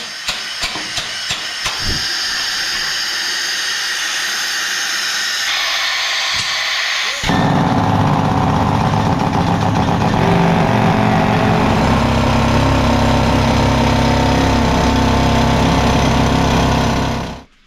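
Harsh, loud mechanical rock drilling in a gold mine roars continuously, with hiss and engine rumble. It grows heavier and denser partway through and stops abruptly at the end.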